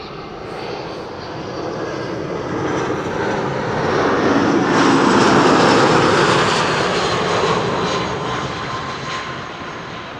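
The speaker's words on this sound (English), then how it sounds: "runway 27 is now also open again for at least a BizJet that is approaching" A business jet approaching runway 27 makes a broad engine roar that swells gradually toward the middle, then eases off as it passes, heard alone at moderate distance.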